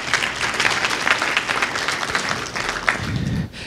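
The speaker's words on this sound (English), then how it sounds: "You can clap for that." An audience applauds steadily for a few seconds at a talk on the state of the Black church in America, a dense wash of many hands clapping at close range, dipping briefly near the end.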